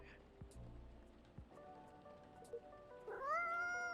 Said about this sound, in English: Do you have a new pet cat then?